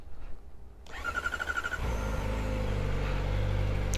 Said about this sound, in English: let me get a little cold start